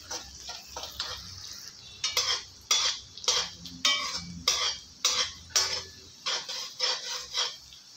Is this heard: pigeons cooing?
no